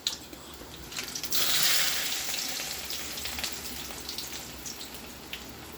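Onions sauté in a hot pan for ramen, giving a soft, steady sizzle that swells after a clatter as they hit the oil and then fades a little, with no voices.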